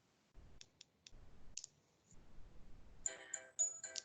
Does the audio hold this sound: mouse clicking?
yes